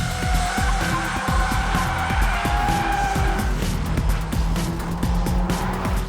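A 2019 Mercedes-AMG CLA 45 S with all-wheel drive in drift mode drifts with loud, continuous tire squealing and skidding over a roaring engine, sustained throughout.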